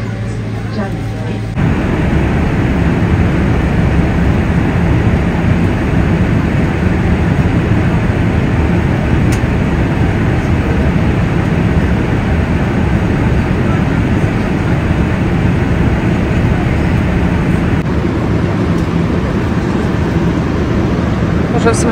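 Steady loud roar of an airplane cabin in flight, a constant broadband engine and air rush that runs unbroken, with voices talking over it.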